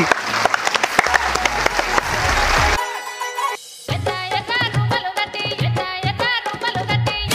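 Audience applause at a comedy village-song audition show, a dense burst of clapping mixed with loud music that carries on as the clapping fades.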